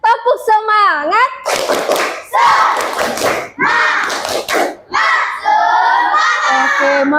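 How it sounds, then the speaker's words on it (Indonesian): Children in a classroom clap a rhythmic spirit cheer together, loud bursts of clapping and shouting mixed with a teacher's voice and kids' chatter. "Tepuk semangat."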